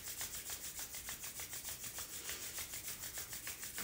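Hands rubbing briskly together, a quiet rhythmic swishing friction repeating about four times per second, close and steady, with no talking.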